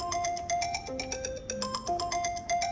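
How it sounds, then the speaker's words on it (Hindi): A phone ringtone plays a repeating electronic melody of bright, pulsing tones, steady and moderately loud, with no talking over it. "फोन आ रहा है"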